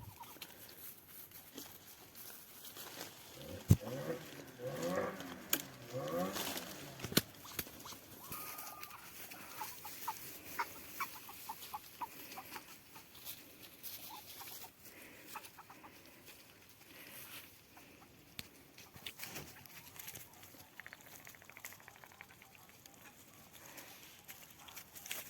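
Ducks eating tangerine pieces in Abkhazia, making soft cooing and clucking calls and pecking noises at close range, faint and intermittent over a quiet background.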